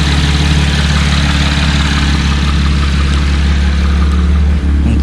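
A 2016-2018 Chevrolet Camaro V6 with a newly installed cold air intake idles steadily and close by, a constant low rumble with no revving or other sounds.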